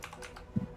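A few soft keystrokes on a computer keyboard click quietly nearby in a brief burst.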